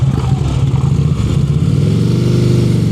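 Motorcycle engine idling low and rumbling during slow-speed riding drills in Pennsylvania, a loud, close, steady throb with slight rises in pitch as the clutch is worked.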